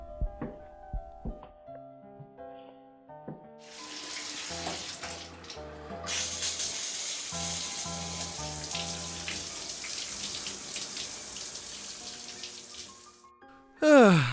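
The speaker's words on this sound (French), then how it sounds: "Je vais prendre une douche, ça va me détendre." A shower runs with a steady, close rush of falling water that starts after a few seconds and continues for most of the stretch over soft background music, ending abruptly with a sharp sound.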